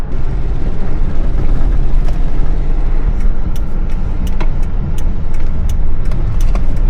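A car left idling after a jump-start, its engine a steady low rumble close by, with faint clicks and ticks scattered over the continuous drone.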